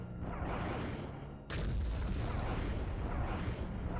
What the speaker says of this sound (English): the explosions happening across the galaxy right now